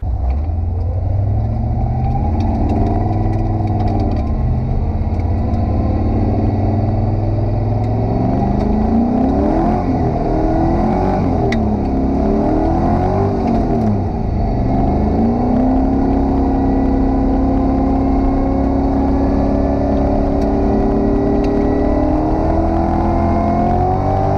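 An LS-powered Nissan S13 runs hard at a Race Wars event in Albany, its V8 engine droning loud and steady, rising and falling through revs with a rough mechanical rumble, heard up close without talk.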